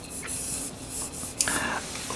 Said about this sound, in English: I'm going to draw it nice and light and loose. And I'm going to sketch in a circle